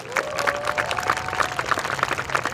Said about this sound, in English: Please, let's give our keynote speaker another warm round of applause.